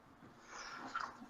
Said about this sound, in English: The dog's making a funny noise.